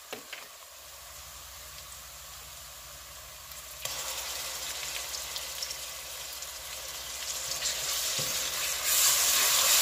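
Chopped onion sizzles in hot oil with ginger garlic paste, a soft, steady frying hiss that swells louder about halfway through when more is added and keeps crackling until the end.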